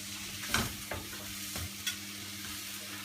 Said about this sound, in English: So I'm just going to keep it stirring